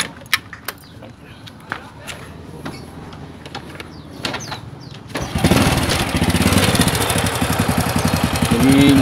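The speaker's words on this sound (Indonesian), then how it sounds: "kita nyalain motornya ya" A motorcycle engine with a stock carburetor starts partway through with a burst of noise, then settles into a loud, steady idle; scattered clicks and handling noises come before it.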